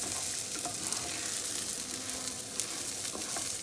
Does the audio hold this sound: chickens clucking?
no